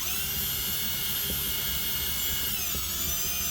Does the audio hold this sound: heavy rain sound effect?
no